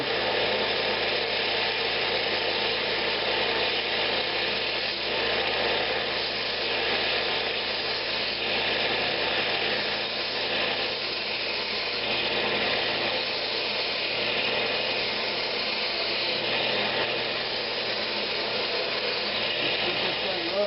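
A wooden shadow box Christmas ornament spins on a lathe while a tool cuts it, giving a steady, loud, continuous whirring and rasping that lasts the whole time with no pauses.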